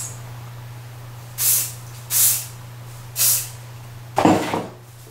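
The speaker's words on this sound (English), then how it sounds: "take your hairspray and you're going to spray it all over, underneath, right at the roots" Three short bursts of hairspray hiss, evenly spaced, followed by a longer, louder spray, all over a steady low hum.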